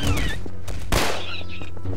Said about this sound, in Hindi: लियोन ने चलाई गोली